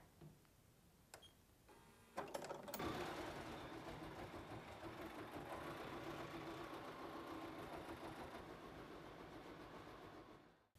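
A Bernina B 700 embroidery machine stitching in free-arm mode gives a steady, dense mechanical whir that starts with a few clicks, holds at an even level for several seconds, then cuts off abruptly.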